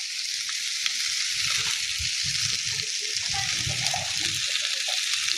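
Food with fresh coriander sizzles steadily in a hot pan, loud and close, while soft stirring knocks and scrapes sound underneath throughout.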